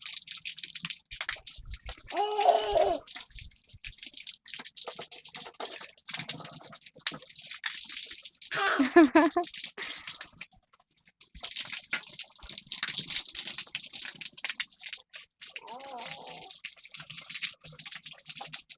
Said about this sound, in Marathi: पायपाला बोट लावा मग जोरात पाणी येतं